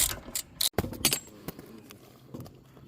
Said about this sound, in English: So you want to have a wrench to hold that bolt while you twist the nut off